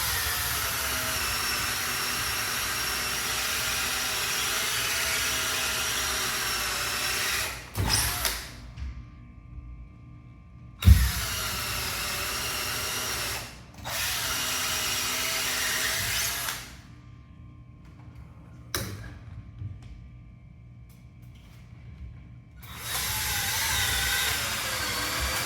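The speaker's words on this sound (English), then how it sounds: "I've got to drill a pilot hole here." Power drill boring a pilot hole through drywall into a wooden board behind it, a steady loud whine broken by several pauses and restarts, with no talking.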